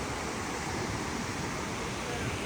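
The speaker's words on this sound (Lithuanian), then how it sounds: "Čia dar vienas krioklys." A waterfall in Yosemite National Park gives a steady, dense broadband roar of falling water, uniform and continuous across the moment with no other distinct sounds.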